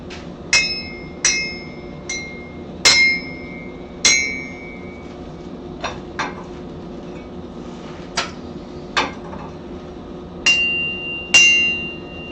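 A homemade Christmas bell rings as its hanging clacker strikes it, about a dozen separate metallic clangs at uneven intervals, each bright hit fading quickly, some louder than others.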